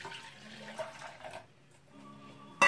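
Hot water pours into a container for homemade liquid soap made from bar soap, a close running splash that thins and changes pitch partway, ending in a brief louder knock.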